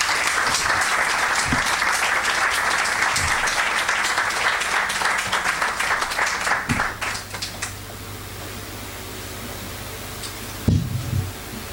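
Applause from a talk audience at a lecture event fills the room densely for about seven seconds, then thins into scattered claps and fades to quiet room tone, with a brief thump near the end.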